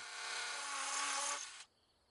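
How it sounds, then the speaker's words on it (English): A small hammer drill with a masonry bit bores into a retaining wall for anchor holes, a single short burst of whirring and grinding that stops abruptly, close and fairly quiet. "Use a small hammer drill with a masonry bit, and in the holes we just marked, drill out about 1/2 to 3/4 of an inch deep for our masonry anchors."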